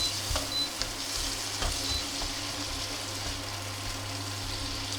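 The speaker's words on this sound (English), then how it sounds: "Just to melt the butter around with it." Butter melts and sizzles gently in a pan with a little oil on an induction hob, a soft continuous frying crackle over a low steady electrical hum, with a few faint stirring touches.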